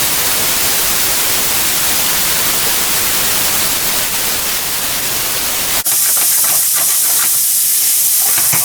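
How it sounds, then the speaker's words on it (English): Onions stir-frying over high heat give a loud, steady steaming sizzle, broad and close, with a sudden shift partway through to a brighter, thinner hiss with faint clatter. "I'm going to stir fry the onions here for about 2 minutes"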